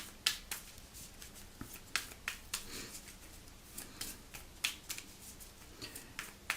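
Marvel Champions cards are shuffled into a deck in a run of quick, crisp riffles and light slaps. The snaps come close and faint, at an uneven rhythm, with no voices.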